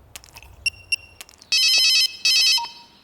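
A telephone rings with a few short electronic chirps followed by two long, bright bursts of trilling ring, close and clear in a quiet room.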